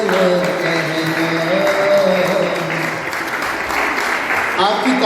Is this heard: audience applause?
yes